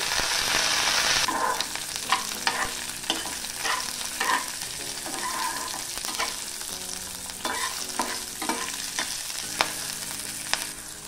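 Torn green chillies with chana dal fry in a pan while a spoon stirs them, giving a continuous sizzle broken by repeated scraping strokes, close and fairly loud, with no voices.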